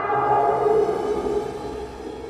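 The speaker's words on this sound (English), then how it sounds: "we have these little dotted effects in there as well, as Galactic Storm is one of them" Galactic Storm effect on a Cherry Audio PS-3300 synthesizer: a steady, swirling sustained tone with a shimmering texture, holding at an even level with no voices.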